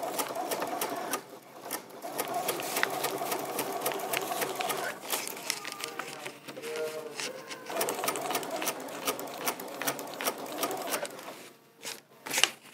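A sewing machine stitches fabric for freezer paper piecing, running in steady rapid bursts with short pauses between seams, close and fairly loud.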